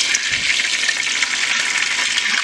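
Salmon croquettes frying in a pan, with a steady, close hiss of sizzling oil that continues without a break.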